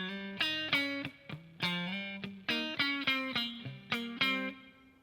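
Electric guitar with a distorted, chorus-like tone plays part 4 of a song, a rhythmic riff of short, clear picked notes and chords in a steady syncopated groove, close and alone with no talking.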